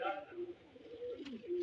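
Pigeons on a rooftop loft give a brief run of soft, low cooing, faint and close, with a voice faintly in the background.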